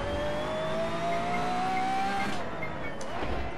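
Pagani Zonda R race car in Assetto Corsa, a loud sustained engine note rising steadily in pitch as it accelerates, with tire noise and a brief scrub near the end.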